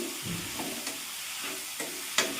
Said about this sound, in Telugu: టమోటాలు, ఎర్రగడ్డలు, పచ్చిమిరకాయలు వేసాను. ఇవి కొంచెం అలా వేగిన తర్వాత వంకాయలు వేస్తాను.